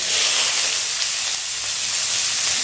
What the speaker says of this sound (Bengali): এবারে তেলের সঙ্গে জিরা তেজপাতা ভালো করে ভেজে নিয়ে এর মধ্যে দিয়ে দিচ্ছি তিন চারটে পেঁয়াজ কুচি